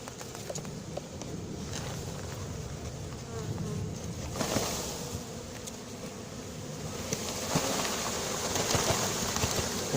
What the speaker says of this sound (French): Je vais secouer un peu plus. Et oui, petites abeilles, il faut descendre hein